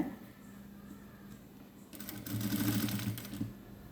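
A sewing machine runs in a steady, close burst of rapid stitching as it sews a zip onto a long gown, after a quieter stretch of low hum and handling.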